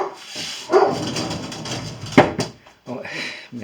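A dog barks a few times in a room, heard under someone talking during a demonstration of a bearing-mounted balancing machine.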